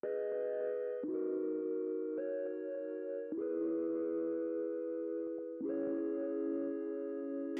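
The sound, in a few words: super distorted plucky synth lead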